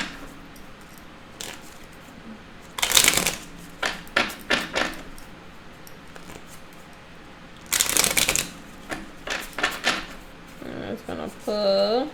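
Tarot cards being shuffled by hand in two loud, crisp riffling bursts, with lighter card taps and handling sounds between them, close up, and a voice speaking briefly at the end.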